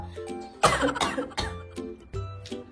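A person coughs close to the microphone in several sharp, rough bursts spread over about two seconds.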